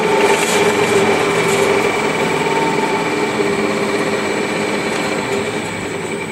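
A Rong Fu RF-19V variable speed drill press runs steadily at just over 2,000 RPM and slows down, its close, continuous motor whine and mechanical hum holding throughout with no talk.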